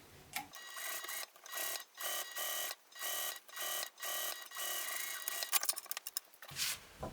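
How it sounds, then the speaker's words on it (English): A sewing machine top stitches a clear vinyl pouch in repeated bursts of rapid, rattling stitching separated by short pauses, close and fairly loud, with a final stretch of continuous running near the end. "I'm going to top stitch 1/8 of an inch away and just pulling that vinyl as I"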